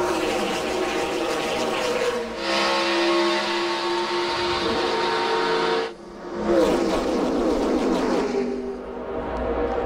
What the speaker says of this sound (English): Martin Truex from the pole led the drag race to turn 1